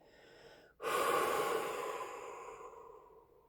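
A single long, deep exhale during a guided meditation starts abruptly after a brief quiet moment, a loud breathy rush that slowly tapers off over a few seconds, with no talking.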